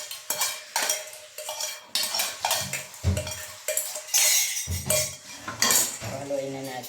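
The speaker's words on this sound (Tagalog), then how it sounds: "Haluin na natin." A spoon clatters against a bowl, beating flour and baking soda batter for pineapple bread in a rapid, uneven run of close clinks and scrapes.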